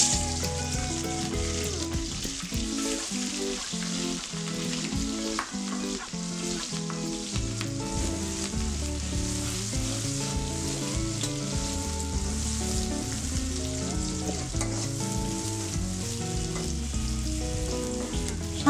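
Fish curry frying in hot oil left over from frying kangla/foli fish, with a steady, dense sizzle that stays loud and even throughout, mixed with busy clatter and stirring, and no talking.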